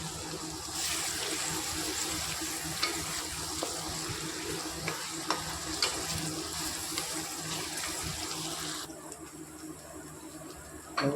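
Onions and tomatoes frying in a pan for aloo gobi, a steady close hiss of sizzling oil that cuts off sharply near the end, with no voices.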